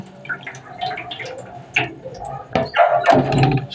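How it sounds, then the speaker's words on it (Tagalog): Water trickles and splashes in uneven bursts while fish are washed, with small drips, clinks and sloshing handled up close and moderately loud. "Patulo-tuloan lang muna natin ng tubig."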